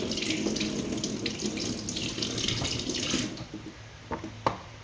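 Tap water runs steadily over ginger being washed at a kitchen sink, a loud close splashing stream that cuts off near the end, leaving a few drips and knocks.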